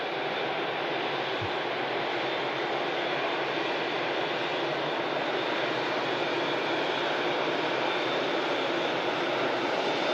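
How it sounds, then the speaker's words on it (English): An Airbus A380 jet airliner departs Manchester Airport, a loud, steady broadband engine roar that holds evenly throughout, close and sustained with no talking. "King of the Skies, A380 departure as well."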